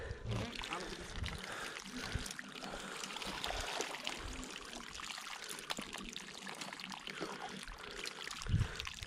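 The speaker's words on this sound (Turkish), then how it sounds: "Eşim de soğuk suyla yıkama yapıyor bir yandan." Figs from the harvest basket being washed in cold running water, a steady pouring and trickling wash that continues throughout, with a voice speaking in the background.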